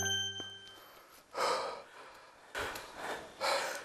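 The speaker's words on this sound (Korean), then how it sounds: "교수님의 숨소리가 다소 거칩니다" Heavy, labored breathing from a professor climbing a path up toward a cave during a trip to Hua Hin, Thailand, coming in three loud breathy bursts spaced a second or so apart after a faint tonal start.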